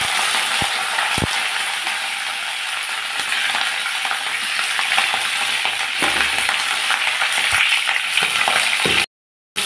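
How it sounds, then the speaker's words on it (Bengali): Cauliflower frying with turmeric and salt hisses in a constant loud sizzle, broken by a couple of sharp utensil clicks early on, before cutting off abruptly near the end. "কপিগুলোর মধ্যে আমি সামান্য হলুদ গুঁড়া আর সামান্য লবণ দিয়ে লাল লাল করে ভেজে দিলাম 5 মিনিটের জন্য।"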